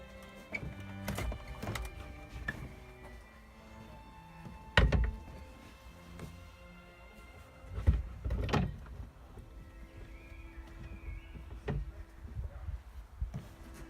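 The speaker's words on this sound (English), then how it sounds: "Let's get the seat fitted." Work on a swivel seat being fitted into a VW T4 campervan brings scattered metallic clicks, knocks and a couple of heavier thunks, nearby and irregular against a quiet background.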